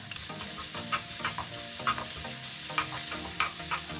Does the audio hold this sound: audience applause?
no